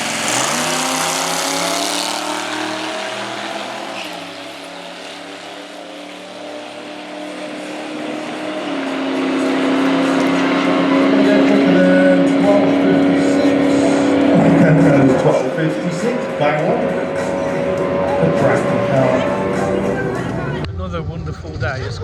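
A classic Mini drag car launches at Santa Pod: a loud engine revs hard with rising, strained pitch through the run, then fades as it pulls away.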